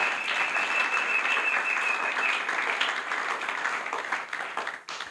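A church congregation at a Sunday service bursts into sustained applause, dense and steady clapping from many hands filling the room, fading out at the very end.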